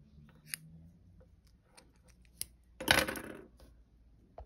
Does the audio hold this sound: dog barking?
no